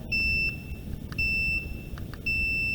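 Three short, high electronic beeps in a row from a multimeter continuity test on a breadboard, evenly spaced, sounding close and clear over a faint background hum.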